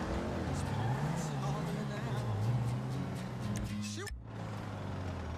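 A car engine hums steadily while driving in the video game GTA 5, its pitch wavering up and down, and it cuts off abruptly near the end before resuming. Talk runs over it throughout.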